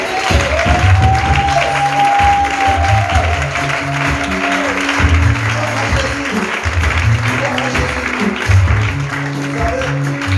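A church congregation at a divine-healing service applauds loudly and steadily, the clapping sustained the whole time beneath rhythmic music and a voice.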